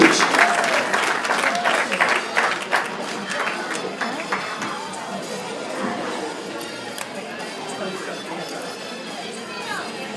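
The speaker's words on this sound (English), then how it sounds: "Big round of applause for Rachel." Audience at a pet fashion show awards ceremony applauds Rachel Grant, named Humanitarian of the Year, as she comes to the stage; dense clapping with cheers and chatter, loudest at first and then tapering to a lighter, steady patter.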